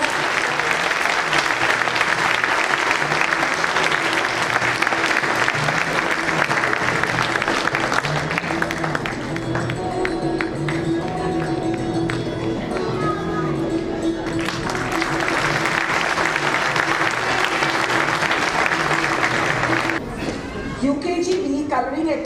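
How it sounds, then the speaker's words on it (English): Sustained audience applause at a children's school activity awards ceremony, loud and continuous for over twenty seconds with music-like tones underneath, breaking off briefly near the end. "Give them a big round of applause."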